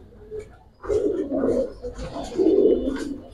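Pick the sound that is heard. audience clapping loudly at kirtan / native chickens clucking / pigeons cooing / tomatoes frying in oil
pigeons cooing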